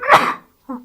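A single sharp, close sneeze burst, followed after a short pause by a brief voiced sound.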